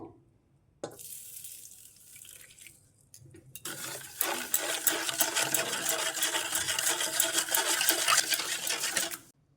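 Homemade vanilla essence mixture, made without chemicals and thinned with warm water, being beaten by hand. A rapid, steady scraping rustle starts softly, then grows loud and continuous for several seconds with no talk.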